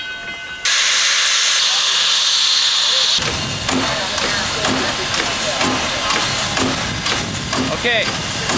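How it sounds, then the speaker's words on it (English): A loud hissing burst of steam gives way to the rapid rhythmic chugging of a steam locomotive's air compressor, close and continuous. "You got the big compressor running right here."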